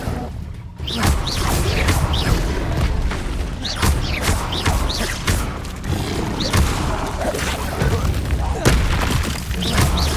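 An Incendio fire spell cast repeatedly during combat in Hogwarts Legacy, with loud booming bursts and crashing impacts recurring through a busy fight, mixed with voices.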